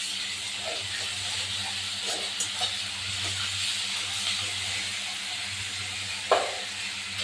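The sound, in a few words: ginger garlic paste frying in a pan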